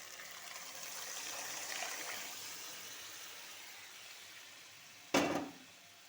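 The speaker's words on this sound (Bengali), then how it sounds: "এবার ঢেলে দেবো সেদ্ধ করা মটর।" Boiled peas poured into a cooking pot of ghugni: a steady watery hiss, then one sudden, louder splash near the end that quickly fades. No one speaks.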